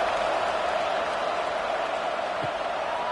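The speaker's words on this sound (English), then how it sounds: "This crowd is buzzing after that last score." Stadium crowd in EA Sports College Football 26 at South Carolina vs Missouri, a steady wash of distant cheering and murmur that stays even and continuous throughout.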